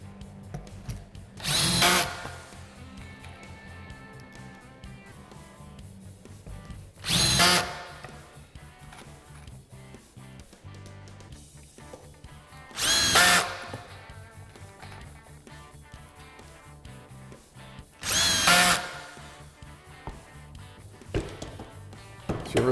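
A power drill drives screws into a door frame held by clamps, sounding four short, loud bursts of motor whine about five seconds apart, with quiet pauses between them.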